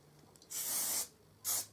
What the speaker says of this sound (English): you'll get some hairspray and just